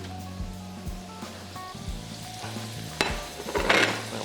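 Fish sizzling in a pan over medium heat in a home kitchen, a soft, steady crackle with occasional clinks and scrapes of utensils, growing a little louder toward the end.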